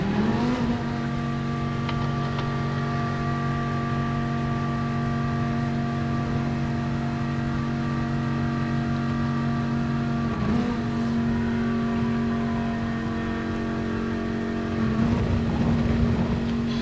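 Race car engine in a video game lobby race, holding a loud, steady sustained drone with brief shifts in pitch around the tenth and fifteenth seconds, close and continuous throughout with no talk.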